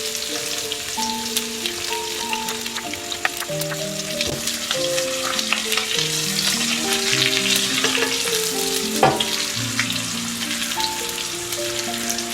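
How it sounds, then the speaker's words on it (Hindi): Steady sizzle of curry leaves, thick red chilies, cumin, whole dried coriander and browning onions frying in hot oil for a tadka, with occasional stirring clinks and no talk over it. "हल्का सा ब्राउन करके हमने इसका तड़का लगाना है।"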